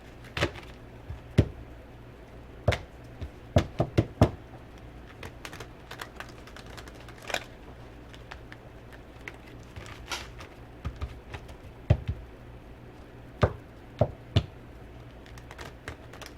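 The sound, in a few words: shuffling tarot cards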